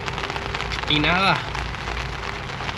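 Steady rain falls at night outside a motorcycle traveler's camp during a round-the-world trip through Russia. It is a constant wash of drops, with a brief voice and a short rising electronic chirp partway through.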